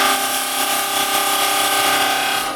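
A carbide chisel scrapes a spinning resin bowl on a woodturning lathe, giving a steady, close, loud whirring hiss with a faint tonal hum that holds evenly throughout, with no talk.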